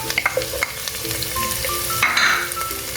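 Chopped onion sizzles and fries in hot sesame oil in a pan, a steady crackling hiss with occasional stirring scrapes, close and fairly loud without any voices.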